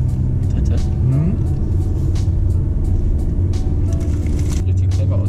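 A car on a driving lesson pulls away in first gear with a little throttle, its engine rumbling and rising in pitch at close range, while instructor and learner talk over it.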